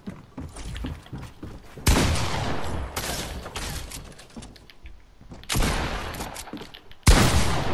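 Bursts of SMG fire in Fortnite, heavy spraying volleys arriving in separate clusters with short quieter gaps between them, loud and close, with no talking.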